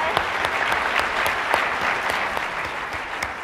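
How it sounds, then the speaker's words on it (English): Audience at a Java community keynote claps in a lively, continuous burst, with a few sharp individual claps standing out against the crowd's steady applause. "let's give a big round of applause for our Japanese"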